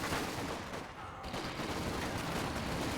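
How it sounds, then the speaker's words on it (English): Thompson submachine guns fire inside the World War II strategy game Company of Heroes 2, a dense, continuous crackle of close automatic gunfire and battle noise that dips briefly partway through. "This raid section has been upgraded with those Thompson submachine guns, and they are absolutely going to shred this"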